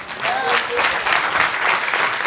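An audience claps together during a church drama, a close, dense burst of steady applause.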